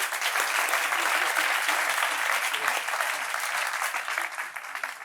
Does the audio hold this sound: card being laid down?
no